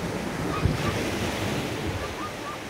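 Ocean surf washes continuously onto the beach at South Kuta, Bali, a steady roar of breaking waves mixed with gusty wind buffeting the microphone.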